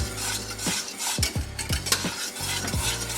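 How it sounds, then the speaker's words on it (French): Butter melts into lemon cream in a pan over low heat as a utensil stirs steadily, giving soft repeated scrapes and clinks of metal against the pan over a gentle sizzle. "on fait fondre le beurre tranquillement, toujours en remuant"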